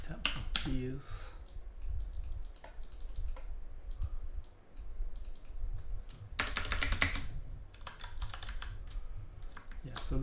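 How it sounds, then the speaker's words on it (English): Fingers tap rapidly on a computer keyboard in dense, uneven clatter over a steady ambient background hum, with a louder burst of keystrokes partway through. "Tap some keys."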